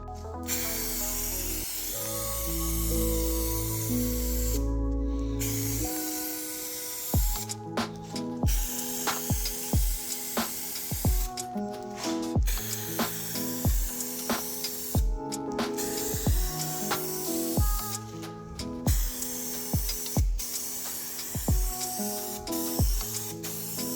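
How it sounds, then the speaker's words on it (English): Spray glue hissing from an aerosol can onto a 1:32 scale model railway layout, a long continuous spray followed by a series of short bursts with brief pauses, close and loud. "Allows me just to put a bit of spray glue on the area that I need"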